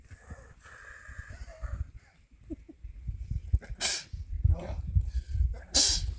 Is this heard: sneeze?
yes